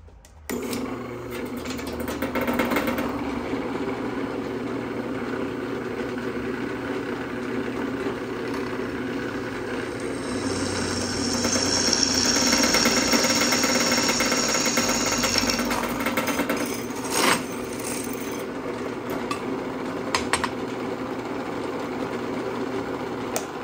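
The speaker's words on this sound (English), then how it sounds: "going to mark one side and then go ahead and drill" A power drill whirs steadily for over twenty seconds while drilling a hole in a Ford F-150 Raptor, its pitch rising as it bites in, with a few brief catches and knocks near the end.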